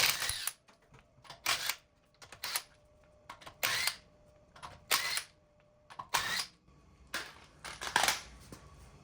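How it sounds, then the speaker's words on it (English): Impact gun spinning lug nuts off a Tesla Model Y wheel in a series of short, sharp whirring bursts with pauses between, about a dozen in quick succession, close and moderately loud. "I'm just gonna use my gun to remove the lug nuts quickly"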